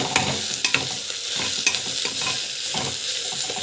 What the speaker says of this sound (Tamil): போட்டுக்கிட்டு வதக்கிக்கலாம்.